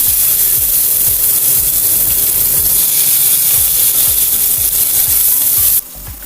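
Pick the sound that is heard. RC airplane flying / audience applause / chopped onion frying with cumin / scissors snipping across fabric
chopped onion frying with cumin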